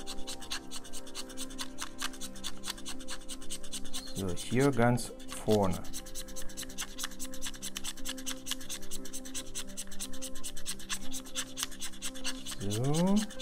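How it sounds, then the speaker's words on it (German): A knife blade sharpening a pencil lead makes a continuous fine rhythmic scraping, close and steady, while someone speaks German briefly over it. "jetzt wird meine Mine richtig, richtig scharf, richtig gut angespitzt."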